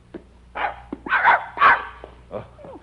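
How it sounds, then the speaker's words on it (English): Dog barking in a radio drama, a few close yelping barks in quick succession, then a brief whimper, with no talking over it. "Good dog."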